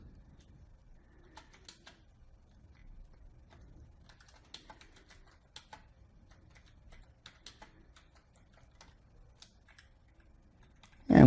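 Faint, scattered clicks of typing on a computer keyboard during iOS 9 app coding, soft irregular keystrokes in a quiet room, ending with a sudden loud bump.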